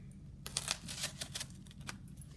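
Thick cardboard is cut at an art studio cardboard station, giving a quick series of close crisp snipping and crunching clicks that come in a brief irregular cluster, fairly faint.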